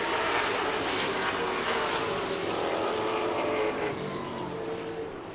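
Race cars at Seven Rivers Racing on a dirt track roar past in a loud, steady, broadband engine wash that stays dense throughout, easing slightly toward the end, with no talk.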